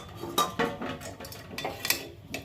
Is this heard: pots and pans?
yes